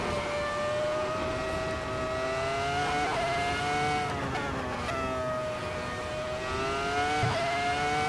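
A 2004 Formula 1 car engine screaming at high revs around Laguna Seca in Assetto Corsa, a steady, loud whine that dips and climbs through gear shifts without pause.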